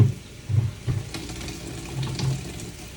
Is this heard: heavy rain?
no